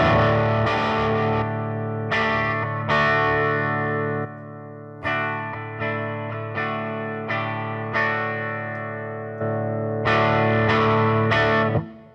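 An electric guitar played through a Kinky Boost overdrive pedal on a Pod Go unit, crunchy distorted chords struck in separate bursts, each ringing out and decaying, up close and alone.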